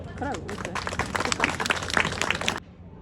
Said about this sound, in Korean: 여러분 신랑 신부에게 박수 보내주십시오.